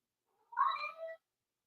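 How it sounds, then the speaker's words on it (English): A single cat meows indoors, a drawn-out cry of about half a second, moderately faint and heard alone with no talking. "Okay, ignore the cats."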